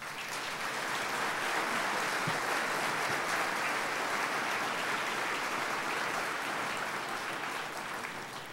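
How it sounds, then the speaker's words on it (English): Warm, sustained applause from banquet guests for standing committee members, a dense even wash of many hands clapping at a distance, unchanging in level for the whole stretch. "Please stand so that we may recognize you with a warm round of applause."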